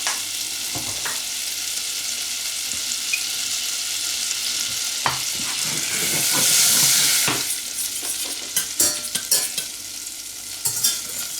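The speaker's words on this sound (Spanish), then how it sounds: "echamos la mantequilla, y un pelín de aceite para evitar que se queme" Butter with a little oil sizzling in a pan as a béchamel is started, a steady close frying hiss with soft stirring scrapes and small crackles over about eleven seconds, no talk.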